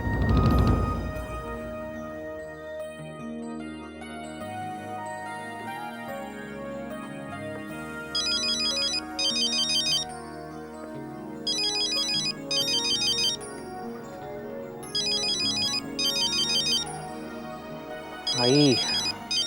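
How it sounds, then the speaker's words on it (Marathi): A phone ringtone plays in bursts that repeat several times over soft background music in a domestic scene, ringing close and clear between the musical passages. "किती वेळा फोन कराय, मी नाही उचलणार."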